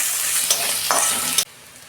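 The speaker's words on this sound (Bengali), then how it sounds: "রসুন দিচ্ছি, আদা দিচ্ছি। ভালো করে আমি কষাবো।" Green chillies, garlic and ginger frying in hot oil in a pan, stirred for a Bengali dish: a loud close sizzle with two spoon scrapes, cut off abruptly after about one and a half seconds into quiet.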